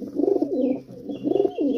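Pigeons in a breeding loft give close, clear cooing in two rhythmic bursts with a short pause between them, and no voices.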